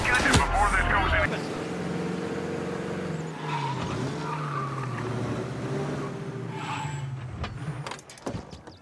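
A car skids with squealing tires during a police roadblock chase in a Godfather game cutscene, a sustained, wavering screech under tense voices.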